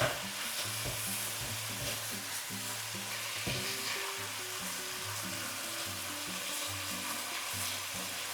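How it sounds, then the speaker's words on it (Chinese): Green beans and pork stir-fry over high heat in a wok, giving a continuous loud sizzle with repeated scraping tosses of the spatula. "繼續大火快炒，讓豆角和肉片的味道融合在一起。"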